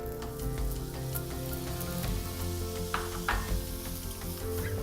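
Finely minced shallots sizzle in heated coconut oil or ghee, a steady close crackle with faint stirring, no voices.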